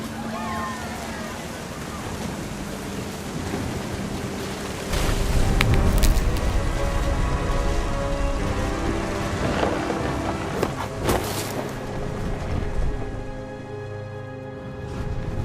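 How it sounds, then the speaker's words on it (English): Thunder and rain in the video game What Remains of Edith Finch: a steady wash of rain and wind noise fills the scene, swelling midway with a deep, rolling thunder rumble before easing back to the constant downpour. "The thunder sounded much too close and full of angry power."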